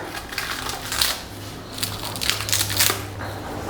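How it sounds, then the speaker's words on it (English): Plastic packaging is peeled and crinkled off the profiles of an Ender 3 V2 3D printer during unboxing. Close, papery rustling comes in a few bursts over a low steady hum, with no speech. "Let me just unwrap this."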